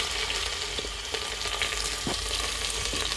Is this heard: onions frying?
yes